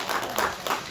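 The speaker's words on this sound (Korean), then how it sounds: "박수를 하겠습니다" Church congregation clapping in welcome during a Sunday morning service, a brief burst of a few rhythmic claps heard fairly close in a reverberant room.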